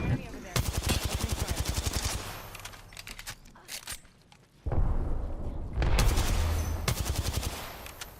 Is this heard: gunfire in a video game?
yes